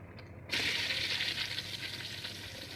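Beef meets hot oil with ginger and garlic in a pan, setting off a sudden loud sizzle that rises sharply and then holds steady, close by.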